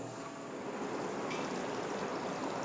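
Anchovy fish curry boils under a lid in a pot, giving a steady, dense bubbling hiss at close range that stays even throughout.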